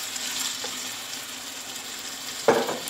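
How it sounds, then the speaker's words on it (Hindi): Fried masala for keema aloo matar sizzles steadily in a pan, then a burst of hissing and bubbling erupts near the end as a glass of water is poured in. "अब इसमें तकरीबन 1 गिलास पानी डाल दें"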